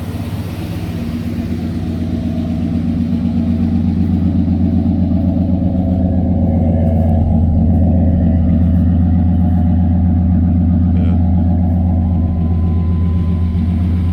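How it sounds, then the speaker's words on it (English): A junkyard replacement engine in a 1995 Chevy short bed pickup runs steadily, a loud, close, even rumble that holds for the whole stretch with no voices over it. "He got this motor out of a junkyard. It run real good."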